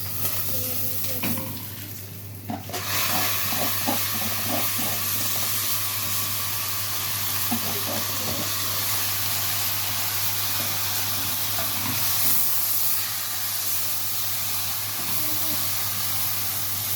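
Rice tipped into a pan of fried vermicelli, with a brief rush of sound as it lands, then a steady loud sizzle and hiss continuing close and unbroken, with faint stirring scrapes throughout.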